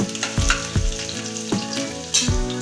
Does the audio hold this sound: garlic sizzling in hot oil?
yes